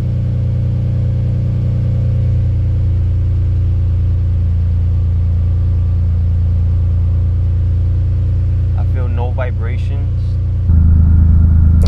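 An Infiniti Q50/Q60 with an aftermarket transmission mount idles steadily with a low, even hum, a person speaking briefly over it before the engine note rises and grows louder near the end.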